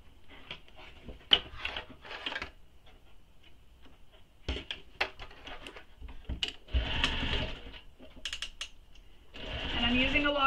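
A sewing machine bastes around a bag with long stitches, running in short stop-start bursts with ticking clicks between, getting longer toward the end, fairly quiet.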